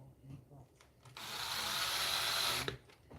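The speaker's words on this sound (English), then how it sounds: "Now I take my drill and I'm gonna use that as a guide." Power drill starting a hole in a workpiece: a steady whirring run of about a second and a half, moderately loud, ending with a click, amid quiet room noise.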